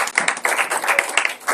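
A church congregation at a Sunday service claps in quick, uneven bursts of hand claps, close and lively, to acclaim the word of the Lord.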